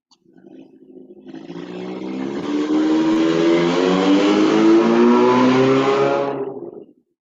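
A human voice imitates a car taking off and accelerating, a rising buzzy engine-like drone that swells over several seconds, holds loud, then cuts off, with no other talk.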